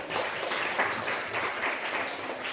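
A class of students claps for classmates who answered in a lesson, a steady wash of many hands at moderate volume with slight rhythmic swells throughout.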